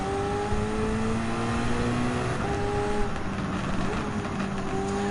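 A race car engine in Gran Turismo 7 drones at high revs through a steady stretch, pitch sliding down and back up through gear changes, loud and continuous with no talk.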